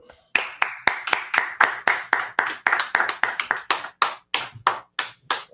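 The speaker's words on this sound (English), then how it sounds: "All right, clap it up." A group claps in slow, steady unison, about twenty sharp hand claps in a regular rhythm, fairly close, with no talk.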